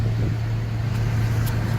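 A 1990 BMW E30 on a test drive gives a steady low engine and road drone from inside the car, loud and continuous over a short stretch.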